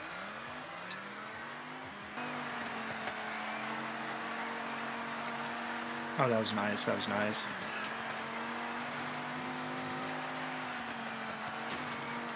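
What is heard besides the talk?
Dodge Viper car engine in Forza Horizon video game race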